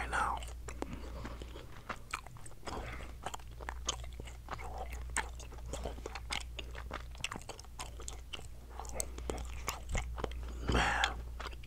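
Bubble gum chewed close to the mic, with a steady run of wet, sticky smacks and soft clicks, repeating rhythmically for several seconds while a voice speaks quietly in between.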